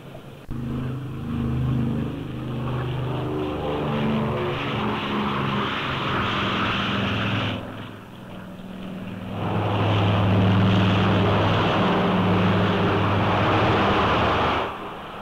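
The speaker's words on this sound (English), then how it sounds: "Eastern Airlines, Flight 6, LaGuardia Tower, cleared for takeoff." A 1948 Eastern Airlines propeller airliner takes off from LaGuardia, its loud, steady piston-engine drone rising into a heavier roar partway through and then holding strong to the end, with no talk over it.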